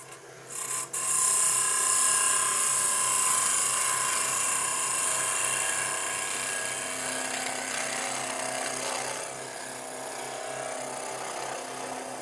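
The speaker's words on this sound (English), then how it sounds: "I'm going to take some of that material out of the centre first, because that's where there's most of it, and then work back to take the whole cut." A gouge cuts into wood spinning on a wood lathe, working material out from the centre. It makes a continuous, fairly loud scraping hiss with a steady motor hum beneath, slowly fading slightly, and no one speaks.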